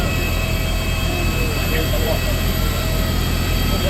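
Jet engines of an aircraft at Dubai airport just after landing, a loud, steady whining roar with a constant high-pitched tone, close and unbroken throughout.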